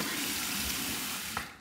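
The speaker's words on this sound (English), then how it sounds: "we're gonna switch to cold from the tap and do my final cold rinse" Cold tap water runs steadily into a sink for a final rinse after a shave, a soft close splashing that trails off at the end.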